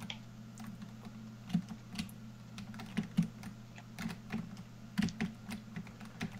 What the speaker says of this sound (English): All you hear is clicking of keyboards and mouse.